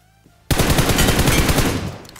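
Sudden, loud sustained spray of AKM rifle fire in the video game PUBG, rapid evenly spaced shots bursting in after near silence and running continuously for well over a second.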